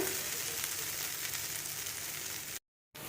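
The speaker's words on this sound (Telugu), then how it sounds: "అన్నీ కలిపి వేగుతాను బాగా వేగిన తర్వాత" Sliced bitter gourd frying on high heat in an oiled pan, a steady loud hiss and crackle that runs without a break before a short cut to silence and then resumes.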